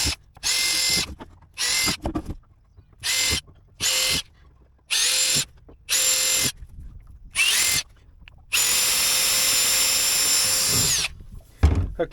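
A power drill with a 4.2 mm bit bores holes for M4 countersunk 316 steel bolts while lockers are fitted on a Drascombe Lugger boat. It comes as loud, close whirring bursts that stop and start, ending in one long sustained run.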